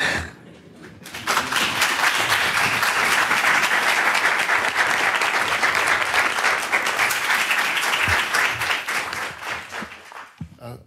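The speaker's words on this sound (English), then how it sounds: "Can we have another round of applause for John?" Sustained audience applause at a foundation live-streamed event, a dense wash of many hands clapping loudly for about nine seconds before tapering off, with no talking over it.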